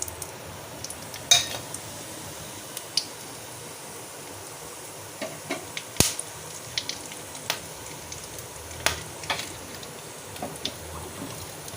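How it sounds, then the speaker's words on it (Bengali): Whole cardamom, cloves, cinnamon, bay leaf and cumin hit hot mustard oil in a kadai for a Bengali chicken curry, giving sparse crackles and sharp pops over a faint, steady hiss, with no talking. "এখন ফোড়নটা দিয়ে দিচ্ছি"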